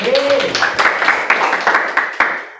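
Church congregation at a Christmas-season worship service in Balikpapan clapping hands, a loud ragged run of claps with some sharp smacks, mixed with cheering voices and a brief vocal tone at the start.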